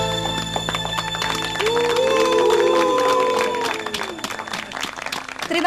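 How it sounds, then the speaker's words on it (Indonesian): An audience applauds and cheers at a live music show, with steady clapping and crowd noise beneath music and a voice that rises in the middle, then thins out toward the end. "Tepuk tangan semuanya, mari bergembira."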